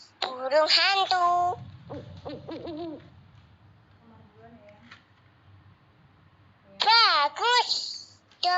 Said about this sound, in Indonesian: burung hantu.